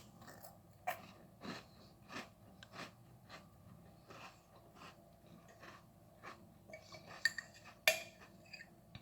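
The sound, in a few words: chewing graham crackers with apple butter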